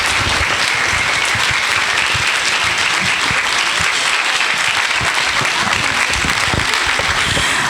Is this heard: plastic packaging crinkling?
no